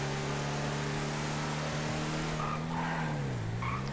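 Truck in a video game drives flat out at top speed, a steady loud engine drone whose pitch holds then dips near the end, with brief tire-squeal-like chirps and no talk.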